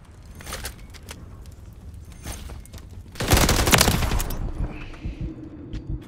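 Gunfire in a Call of Duty Modern Warfare 3 team deathmatch on PS5, scattered shots and then a dense burst of automatic fire with booms, loud and close.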